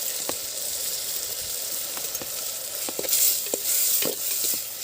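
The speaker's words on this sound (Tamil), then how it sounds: "இஞ்சி பூண்டு விழுதை போட்டுக்கலாம்." Ginger garlic paste sizzles in a frying pan for a Chettinad country chicken curry, a steady close hiss broken by soft scraping clicks as it is stirred. No one talks.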